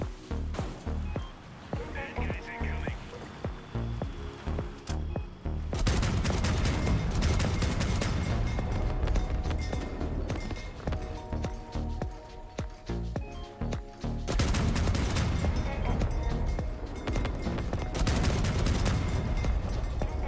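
Rapid bursts of gunfire and booming explosions from the vehicle combat video game Crossout, dense volleys after a quieter opening stretch, with a voice talking over the action.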